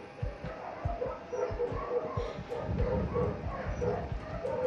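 A dog barks in a Resident Evil 7 horror game session, giving a string of muffled, thumping barks and yips at a steady rhythm over a low ambient drone.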